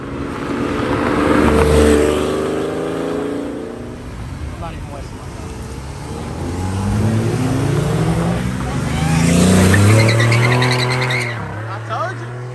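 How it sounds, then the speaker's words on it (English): A V8 LS-swapped Mazda RX-7 accelerates hard away from a cars and coffee meet, its deep engine roar rising in two loud surges with a brief tire squeal, while onlookers talk and shout nearby. "LS swap RX-7."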